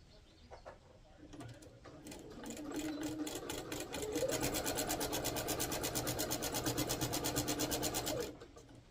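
A Singer sewing machine with a walking foot stitches a quilt, its rapid needle strokes building from a slow start into a steady, fast mechanical run before stopping abruptly.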